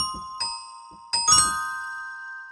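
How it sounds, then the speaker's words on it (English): Glockenspiel notes played on the UVI Key Suite Acoustic virtual instrument: a few bright, metallic strikes ring out, with a cluster near the end sustaining and fading alone. "And here we have the Glockenspiel."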